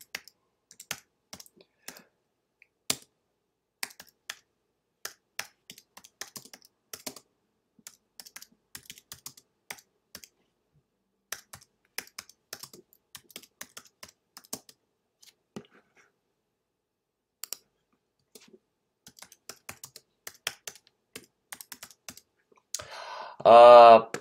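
Sparse clicks of typing on a computer keyboard come in irregular bursts at close range while a caption is entered for a stock photo, with a brief louder noise at the very end.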